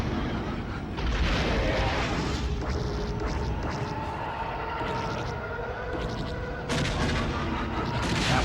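An enemy ship is shot down during a Star Wars Rogue Squadron II: Rogue Leader space battle near a Star Destroyer, amid loud, continuous blaster fire and booming explosions with sharp crashing bursts throughout.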